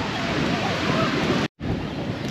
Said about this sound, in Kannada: ಆ ಅಲೆಗಳ ಸದ್ದು ಹಾಗೂ ಅಲೆಗಳು ಬರ್ತಾ ಹೋಗ್ತಾ ಇದ್ರೆ ಸೂಪರಾಗಿರುತ್ತೆ ಫ್ರೆಂಡ್ಸ್